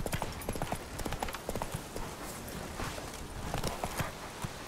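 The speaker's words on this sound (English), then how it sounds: "Get off the horse." Horse hooves clip-clopping at a steady walking pace in The Witcher 3, a continuous run of close, distinct hoof strikes with no talk over them.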